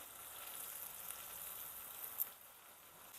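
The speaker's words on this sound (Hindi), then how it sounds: "इसको हम भून लेते हैं अच्छे से प्याज़ों को" Onions sizzle steadily in hot oil and ghee in a pan, a soft, even frying hiss with a few brief crackles, heard alone at low volume.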